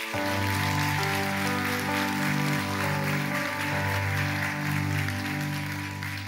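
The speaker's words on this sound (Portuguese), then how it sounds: "Dê o melhor aplauso que você pode dar ao Senhor." Church congregation applauding at a Sunday morning service, a dense, steady wash of clapping blended with sustained keyboard or organ chords throughout.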